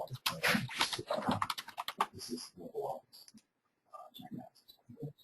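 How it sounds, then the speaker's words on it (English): Typing on a computer keyboard while entering billing groups into route management software, with quick close clicking keystrokes in short bursts, mixed with and following someone talking. "we will get a maintenance menu that pops up where we can type in our first couple billing groups"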